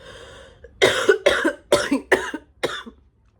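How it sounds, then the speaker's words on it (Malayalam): A person with a severe, phlegmy cough lets out six harsh coughs in a quick, close, loud series after a quiet lead-in, then stops. "ഇങ്ങനെ ചുമച്ചുകൊണ്ടിരിക്കുകയാണ്."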